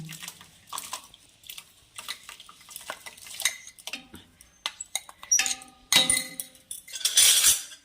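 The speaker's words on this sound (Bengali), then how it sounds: "এবার গুড়টা দিয়ে ভালো করে নাড়িয়ে দেব" A spoon stirs jaggery into cooled milk in a pot, making light clinks and scrapes against the metal with liquid swishing that builds to louder, quicker stirring at the end.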